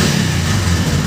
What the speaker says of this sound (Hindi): बाइक स्टार्ट है